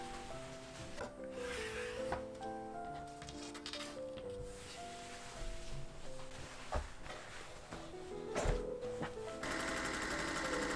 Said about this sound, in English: Then I sewed the strips together with 3/8 inch seam allowances to make a big piece of striped fabric.